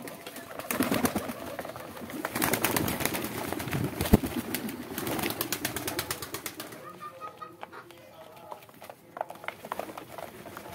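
Pigeons gather to eat bottle gourd leaves, cooing and fluttering close by, with bursts of wing flapping and scuffling that thin out toward the end.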